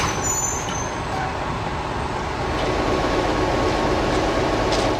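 A DE 511 diesel locomotive shunting a train of carriages gives a steady, dense rumble of engine and rolling stock, loud and continuous throughout with no voices.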